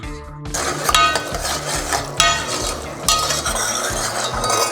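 Tomato sautéing in a pan as the base for a Mediterranean seafood soup, with steady stirring scrapes and soft sizzling under repeated clinks of a utensil against the pot, close and continuous.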